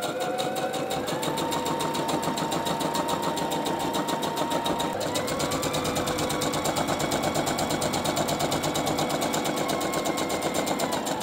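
A sewing machine stitches a lawn shirt in a fast, continuous rattling run, close and steady throughout, its motor pitch shifting slightly midway with no pauses.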